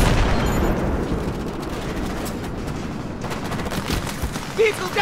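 Dense gunfire during an ambush in Battlefield 3, a rapid, continuous crackle of rifle and machine-gun shots with a louder burst near the end, heard close over noisy battlefield ambience.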